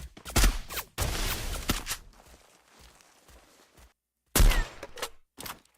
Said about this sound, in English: A battle of snipers.